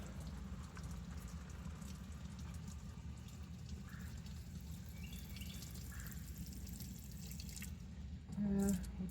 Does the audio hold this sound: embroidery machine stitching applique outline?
no